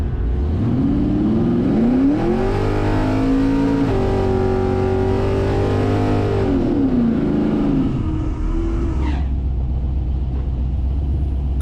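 Chevrolet Vega drag race car doing a burnout and first run, a loud engine revving hard and holding high RPM, climbing and falling in pitch, then dropping back to a rough idle near the end.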